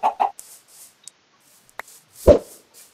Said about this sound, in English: And I have chickens just to breed